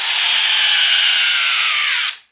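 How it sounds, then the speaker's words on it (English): A Ridgid R8701 subcompact right angle drill on a fully charged 6 amp hour battery whirs at a steady high pitch, close and loud, for about two seconds before winding down. "The rigid subcompact right angle drill model on this is R8701"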